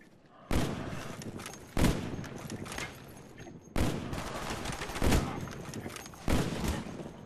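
In Black Ops on the Nuketown map, turret gunfire comes as several heavy, sustained bursts separated by short pauses, loud and close, with game noise between the bursts.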